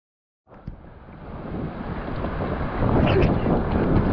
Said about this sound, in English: So we are on a boat